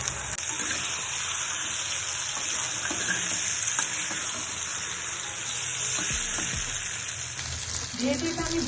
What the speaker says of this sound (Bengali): মশলা কষানো হয়ে গেছে, আমি এখন এর মধ্যে ভেজে রাখা ডিমগুলো দিয়ে দেবো।